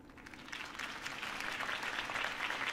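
Crowd applause in the Batman Telltale Series game, steady clapping from many hands that swells slightly, at a moderate distance, with no clear speech.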